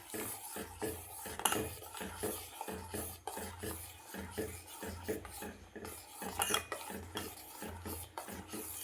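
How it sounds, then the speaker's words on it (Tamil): A spoon stirs jaggery into moong dal payasam in a pot, giving repeated clinking and scraping strokes against the metal in a steady rhythm, close and moderately loud with no talking. "இது நல்லா கிண்டிக்கணும்"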